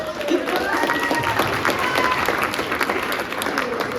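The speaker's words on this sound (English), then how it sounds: "give Sarah a big round of applause" An audience at a conference talk on social media strategy for speakers gives a woman a big round of applause on stage, a loud, sustained crowd clapping that holds steady throughout.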